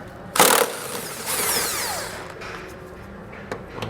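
Power tool spinning out 17mm head bolts holding a tow hook to the frame rail of a 2010 Toyota RAV4, a sharp burst followed by a longer whirring run, then quiet with faint clicks.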